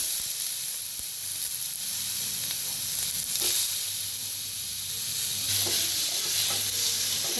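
Tomatoes roast in a pan, likely a pressure cooker pan, after onions, giving a steady soft sizzle and hiss with faint scattered crackles and a low background rumble, close and uninterrupted by speech.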